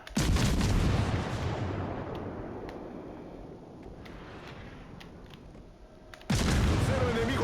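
A warship's guns fire a salvo in a naval video game: a heavy booming blast with a rumbling tail that fades over several seconds, then another loud burst near the end.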